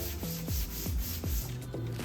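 Stiff synthetic windbreaker jacket fabric rustling and swishing in quick repeated strokes, close up, with no talking.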